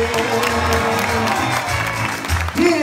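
Crowd applause at a live trova performance in Cali, loud and continuous clapping mixed with a thick murmur of the audience and background music throughout.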